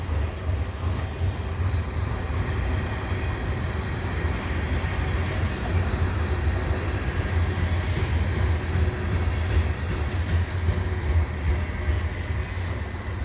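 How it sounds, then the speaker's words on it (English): A freight train of covered grain hopper cars rolls steadily past at Dorval, giving a continuous low rumble and rattle of wheels that stays even throughout without voices. "And there's the end of the train."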